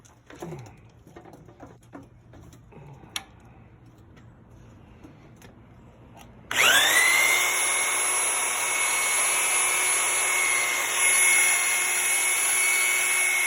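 A Harbor Freight hydraulic tubing bender being pumped: faint scattered clicks and taps give way midway to a loud, steady mechanical whine with a strong hum that holds to the end.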